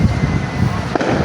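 Dense, continuous crackling and rumbling bursts of "Palma" fireworks at a fiesta, loud and close, with a sharp pop near the end.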